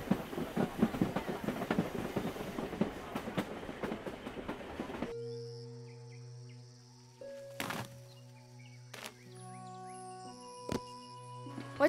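A train rolls along rails with steady clickety-clack for about five seconds, then cuts off, leaving quiet sustained tones and a few sharp knocks.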